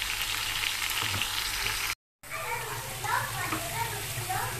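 Sliced onions fry in a pan until brown, a dense, close sizzle that holds steady, breaks off for a moment, then carries on.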